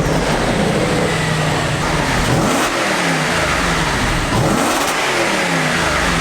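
Audi RS5 engine with a repaired exhaust revs repeatedly, two strong rising-and-falling revs over a loud continuous engine drone, close up with no talking.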